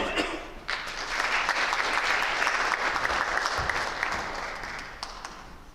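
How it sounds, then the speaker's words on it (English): A high school audience applauds National Honor Society inductees at Montezuma-Cortez High School, the dense clapping swelling quickly and holding strong before tapering off toward the end. "Let's give one more round of applause to our new inductees"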